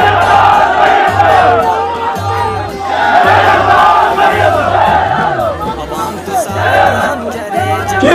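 Crowd at a political rally in Astore Chugaam, Gilgit-Baltistan, roaring and cheering loudly and continuously, with rhythmic chanting bursts and a steady drumbeat underneath.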